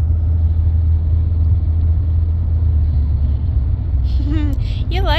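Car driving on a road on a ride to the store: a constant low engine-and-tire rumble fills the cabin, and a high voice speaks over it near the end.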